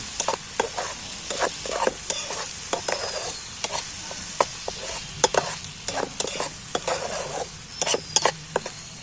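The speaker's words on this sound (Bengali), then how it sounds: "টমেটো আর আদা রসুন বাটাটা আমি একটু ভালো করে ভেজে নেব।" Tomato and ginger-garlic paste frying in a pan, a bright sizzle punctuated by regular sharp scrapes and taps of a spatula as it is stirred, close and clear.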